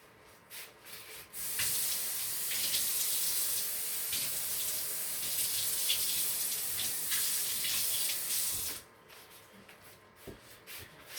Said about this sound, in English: I would just take this can and put water and just go around like this and rinse all of that and fill it maybe half full